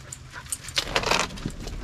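Dogs about to go for a ride in a 1985 Chevrolet C10 truck give soft, brief whimpers and whines close by, with faint jingling and shuffling around them and no talk.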